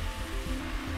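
Finely chopped red amaranth greens hitting a hot pan give a steady, close sizzle with a dense crackling hiss throughout, heard alone.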